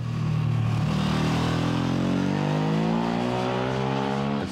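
A Ducati motorcycle engine revs up loudly and close, its pitch climbing steadily in one long pull before easing off, alone without voices.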